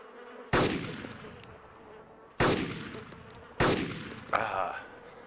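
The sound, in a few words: gunshots in the video game DayZ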